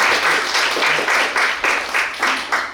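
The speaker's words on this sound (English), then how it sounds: "just give Koshy a round of applause" Small gathering at a meet-and-greet honoring an assemblyman claps close by, loud and in pulsing bursts that swell and fade repeatedly, the crowd's hands coming in waves rather than a steady roar.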